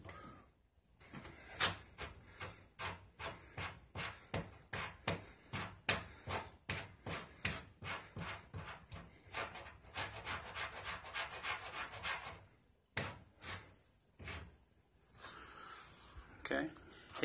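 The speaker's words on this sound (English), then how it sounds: "I'm gonna have to use that rasp a little bit." Hand rasp filing the wooden edge of a Dragon's Lair arcade cabinet during repair, a close run of steady back-and-forth scraping strokes with brief pauses between passes.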